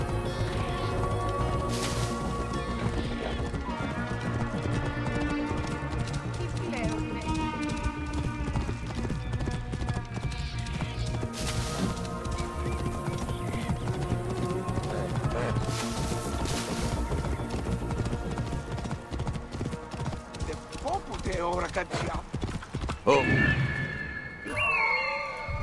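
Horse hooves clip-clop at a gallop in Assassin's Creed Origins, a steady rapid rhythm over continuous game music and ambience, loud and close throughout, with a brief burst near the end.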